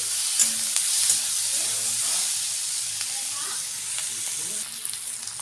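Onions frying in a pan with turmeric, a steady hissing sizzle close by, with light stirring scrapes and faint background voices partly underneath.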